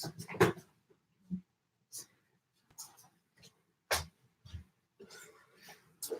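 A puppy digs through a suitcase, its nails scratching: scattered bursts of scrabbling and rustling, close and fairly quiet, separated by short pauses.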